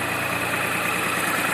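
An ISEKI TU170 three-cylinder mini tractor idles with a steady, close engine drone and a constant low rumble, alone and without any voices.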